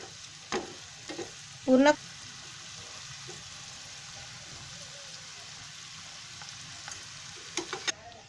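Onion fries in oil for besan jhunka, a faint steady sizzle with a few spoon scrapes and clinks, and a voice speaks briefly over it.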